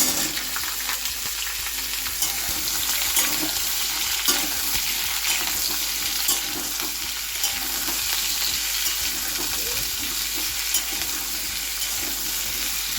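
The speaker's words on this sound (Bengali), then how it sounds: "মিষ্টি কুমড়া ভাজা হবে" Pumpkin pieces frying in a pan, with a steady close sizzle and occasional stirring scrapes continuing evenly throughout, without any talking.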